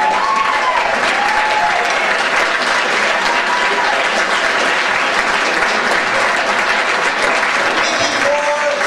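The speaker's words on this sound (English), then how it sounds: "One more round of applause." Sustained applause from a large crowd at a high school reunion cabaret show, dense clapping throughout at steady loudness, with a few whistles or cheers rising above it.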